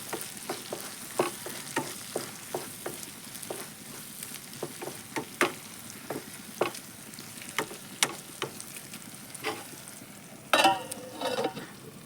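Raw banana stir-fry fries softly in a pan while a utensil scrapes and stirs in steady, repeated strokes, with a louder clatter near the end.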